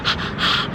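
A person breathing heavily after climbing a hill, two loud, close, rasping exhalations in quick succession, breathy and snorting, with no talk.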